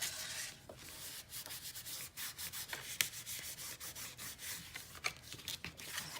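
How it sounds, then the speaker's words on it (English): Paper rubbed firmly onto a craft album page with a burnishing tool, a soft, quiet, repeated scraping close by with irregular strokes and no talk. "Give it a good burnish."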